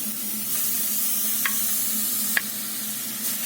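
Carrots sizzle in hot olive oil in a pot, giving a steady, close frying hiss with a couple of brief stirring clinks.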